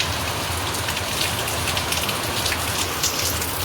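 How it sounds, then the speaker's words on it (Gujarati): Steady rainfall at midday pattering densely on a surface close by. Fine drips and splashes sound continuously over a soft hiss, and no voices are heard. "તો મિત્રો અત્યારે વરસાદ મંડાઈ ગયો છે."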